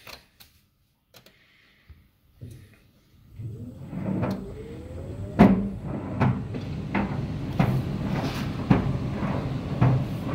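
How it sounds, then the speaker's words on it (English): A Game Boy tumbling inside a running clothes dryer, the drum starting up after a few clicks and then a steady rumble with repeated loud hollow bangs about once a second. "That banging you hear is the dirt being banged out."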